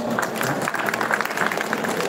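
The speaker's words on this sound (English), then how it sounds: "Let's another big round of applause to Bern." Audience clapping for a German baker at a live pretzel-roll baking demonstration, a lively spread of applause under overlapping voices, close and fairly loud.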